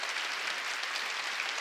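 A church congregation at a New Year's Eve worship service claps hard, giving a brief, dense wash of many hands at steady volume with no voices standing out.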